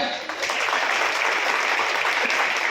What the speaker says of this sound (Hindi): बड़े जोरदार पहले ताली हो जाए